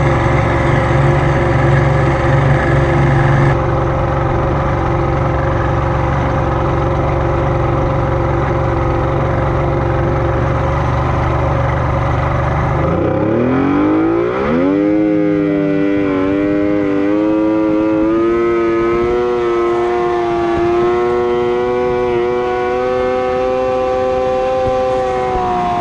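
A racing boat engine idles loudly in the starting chute, then is floored at the flag drop, its revving pitch climbing sharply and staying high and steady as the boat accelerates, close and alone with no talk.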